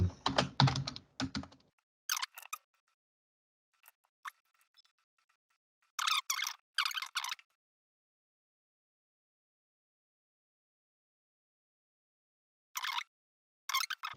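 Verilog code being typed on a computer keyboard: short bursts of close key clicks separated by long pauses, with a louder opening burst and several quick flurries later.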